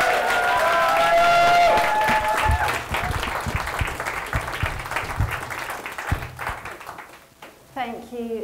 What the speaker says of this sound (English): a massive round of applause for Elizabeth